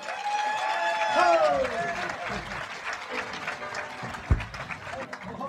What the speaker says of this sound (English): We appreciate that applause.